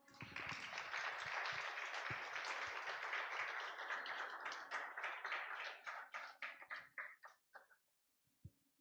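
A church congregation claps steadily and fairly loudly for several seconds, then the applause thins into scattered individual claps and stops.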